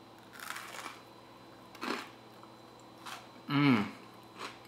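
Crisp, crunchy bites of an air-fried hash brown come in a few separate bursts with quiet pauses between, close to the microphone.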